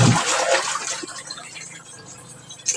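Weak stream of running water from a tap filling for laundry, a soft hissing splash that starts stronger and settles into a faint, steady trickle, close by with no talk.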